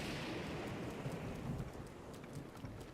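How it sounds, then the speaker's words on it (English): Steady rain pours in a Breath of the Wild thunderstorm, with a low rolling rumble of thunder swelling underneath; no voices, just continuous dense downpour hiss and deep grumbling. "Did the thunder wake him up"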